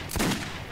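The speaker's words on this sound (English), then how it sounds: "Oh, I'm shooting my own fucking guy." Gunfire in the video game Metro 2033 comes as a short, sharp burst of shots, a couple of close cracks that fade quickly, with no talking.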